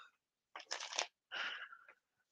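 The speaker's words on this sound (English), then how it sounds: "You like to do a good old riffle shuffle in this house." Playing cards being riffle shuffled at home, heard as two loud bursts of rapid riffling flutter, the second ending in a brief bridge-down ripple, with no talk over them.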